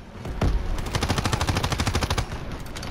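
Machine gun fire in a Call of Duty campaign battle, a fast steady stream of close, loud automatic shots rattling without pause for about three seconds.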